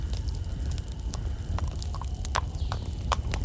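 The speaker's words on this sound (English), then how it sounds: "a horse-drawn carriage came clanking up to us from across the field in front of the woods" A horse-drawn carriage approaches across a field at night, hooves clip-clopping in an irregular rhythm with faint clanks over a low rumble, at moderate distance and without talk.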